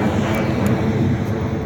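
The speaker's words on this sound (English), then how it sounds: "A bus and a plane for noise." Airplane passing overhead above an empty parking lot, a steady broad low rumble and roar holding evenly through the short moment with no voices.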